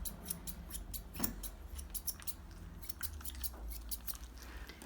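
Scissors trimming the fur on a dog's leg: quiet, close snips in quick irregular runs of crisp metallic clicks, with a brief pause midway, and no talking over them.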